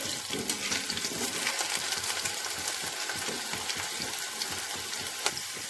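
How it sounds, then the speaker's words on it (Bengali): Potatoes fry in oil in a wok, giving a continuous close crackling sizzle with small pops and occasional stirring, and no talk. "আলুগুলোকে ভেজে নিচ্ছি ভালোভাবে"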